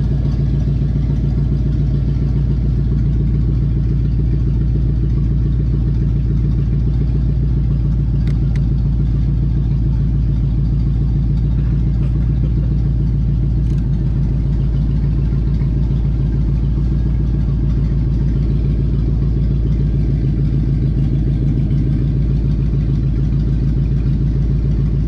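A car engine idles steadily at about 1100 RPM during a winter drive, giving a loud, constant low rumble with faint clatter throughout and no voices.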